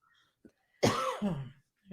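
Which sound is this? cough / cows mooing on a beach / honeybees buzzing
cough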